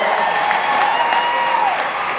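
A college crowd in Jacksonville claps for a touring comedian, a brief, loud burst of applause with a steady tone running underneath.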